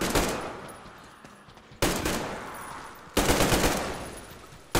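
Heavy gunfire from Metro Exodus on Xbox One X, arriving as three loud, sharp bursts at roughly regular intervals, each decaying into a ringing tail, with no talk.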